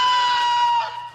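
A rooster in Turkey crows until exhausted, letting out one long, strained, shrill cry that holds loud and then trails off weakly.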